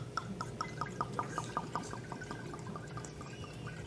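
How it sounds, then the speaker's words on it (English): Liquid pours from a bottle in a quick run of rhythmic glugs that gradually smooth into a steady pour, moderately close amid room noise. "It's really hard not to make a glug, glug, glug sound."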